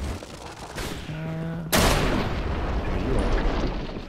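A musket fires in a video game: one loud, sharp blast that cuts through a quieter background, followed by a long rumbling decay, with faint voices talking beforehand.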